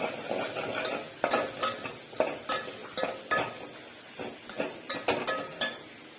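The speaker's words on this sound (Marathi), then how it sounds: "आता हलवून घ्या." Food stirred in a cooking pan with turmeric, a run of distinct scraping and clinking strokes over a low sizzle, close and fairly loud, with no one talking.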